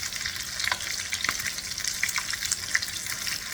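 Salmon croquettes fry in a pan with a bright, continuous sizzle broken by scattered pops and crackles, close and steady throughout, with no voices.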